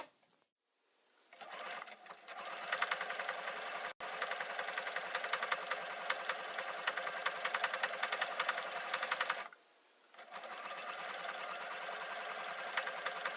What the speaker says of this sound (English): I'm just going to put my embellishment on there and start stitching right over top.